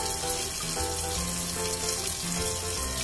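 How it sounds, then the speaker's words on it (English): Tap water running steadily into a sink while hands are washed, a constant close splashing rush with no talking. "first thing we gotta do is, of course, is wash our hands."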